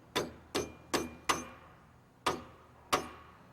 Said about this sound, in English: Setting the key in using a brass hammer.